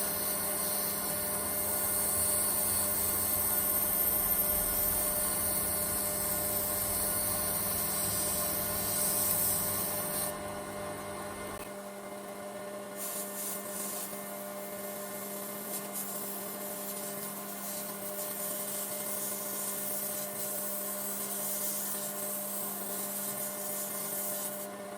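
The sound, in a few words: belt sander polishing a Damascus steel knife handle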